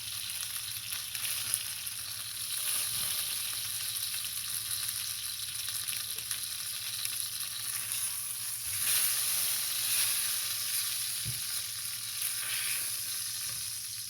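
Chicken fries in a pan with a loud, continuous hiss and crackle of hot oil that holds steady throughout, with occasional soft knocks.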